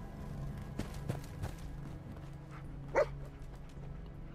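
A dog in the video game Fallout 4 gives a few short, sharp barks and yips spread over several seconds, fairly quiet against a low hum of game ambience.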